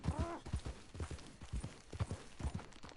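Horse hooves in the video game Red Dead Redemption 2 clop along a road in a steady trotting rhythm, close and distinct, with a brief voice near the start.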